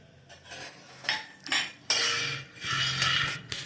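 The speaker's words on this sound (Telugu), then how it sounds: "స్టవ్ ఆన్ చేసుకొని ఫస్ట్గా పల్లీలు వేసుకొని వేయించేసుకుందామండి." Peanuts are stirred and tossed in a metal pan on a stove for a mint chutney, giving close scraping and clattering bursts of utensil on metal with no voices.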